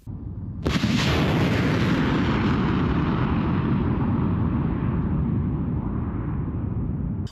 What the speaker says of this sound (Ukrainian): Такий потужний вихід ракети за Мелерез аж підкидає український чорнозем навколо машини.